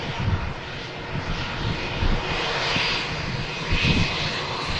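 An Airbus A380 coming in to land at Manchester Airport from London Heathrow, a loud steady roar of jet engines with broad rushing noise that swells slightly as it passes, with no talk.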